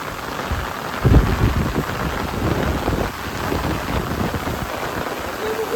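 Heavy rain pours steadily and loudly on a rural village, a dense continuous hiss with heavier gusts of downpour, and no voices over it.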